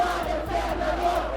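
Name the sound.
crowds chanting in the streets of Ukraine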